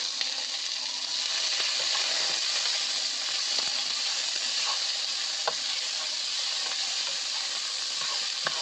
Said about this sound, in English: We want searing.